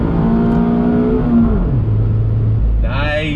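A 2020 Mazda MX-5 Miata Club engine pulls hard in second gear, its tone climbing, then dropping sharply at a shift and settling lower, heard close from the cabin before a voice cuts in at the end.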